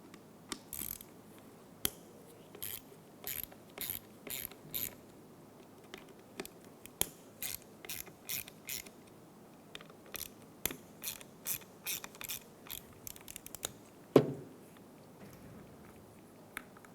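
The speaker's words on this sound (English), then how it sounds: "Using a T25, we're going to remove the 3 screws off of the window motor." A T25 driver backs out three screws from the window motor of a 2014-2019 Toyota Highlander, making bursts of rapid ratcheting clicks with short pauses between them, close and fairly quiet, and one sharper knock near the end.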